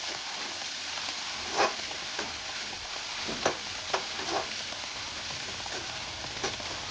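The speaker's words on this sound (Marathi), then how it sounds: "हे सगळं आपण मोठ्या गॅसवरच करणार आहोत आणि परतवून घेणार आहोत खाली करपू नये म्हणून" Capsicum and other vegetables stir-fried over a high flame for Schezwan noodles, giving a steady close sizzle with a few sharp scraping clacks of the spatula scattered through it.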